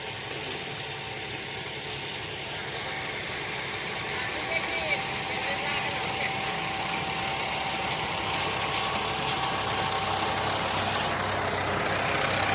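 A tractor engine idles and rumbles steadily throughout on a farm, with faint voices and outdoor background noise mixed in.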